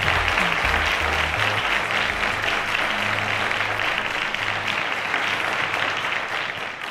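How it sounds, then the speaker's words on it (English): A studio audience at a TV quiz show applauds two contestants with dense, steady clapping that stays loud throughout, while low music plays underneath. "A round of applause to them"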